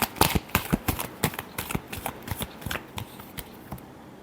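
Tarot cards being shuffled in a quick series of crisp riffling flicks, about twenty close, sharp bursts with no speech over them.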